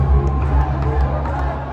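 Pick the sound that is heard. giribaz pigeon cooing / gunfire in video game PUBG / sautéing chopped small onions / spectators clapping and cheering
spectators clapping and cheering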